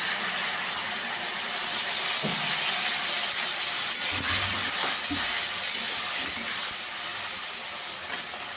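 Tomato paste sizzles in a pan of fried potatoes as a continuous bright hiss, with a few low clunks and scrapes from stirring and no talking.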